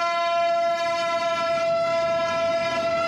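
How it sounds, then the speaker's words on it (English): A train on the Bangkok to Kanchanaburi railway sounds a long, sustained, loud horn blast that holds steady throughout as it arrives. Faint rumble sits underneath, and no one speaks. "now we're actually waiting for the train to come back so we can hop on it"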